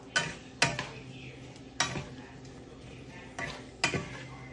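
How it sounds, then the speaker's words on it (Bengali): Potatoes and onions frying together in a pan give a steady low sizzle, broken by five or six sharp scrapes and clinks of a spatula stirring against the pan, close and without talk. "আলু আর পেঁয়াজটা আমি একসাথে ভেজে নেব কিছুক্ষণ ধরে।"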